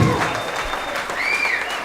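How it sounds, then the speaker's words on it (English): Wedding guests at a reception clap in a sustained round of applause, moderately loud, with a faint voice or whistle rising over it. "You can give me one more round of applause, you guys."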